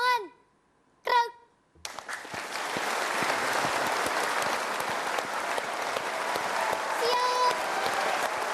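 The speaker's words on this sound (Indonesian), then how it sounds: "Tepuk tangan." Sustained applause from a studio audience on the Kick Andy talk show, featuring the Polisi Cilik Darmayu child police troupe, follows two short shouted commands and continues steadily and loudly to the end.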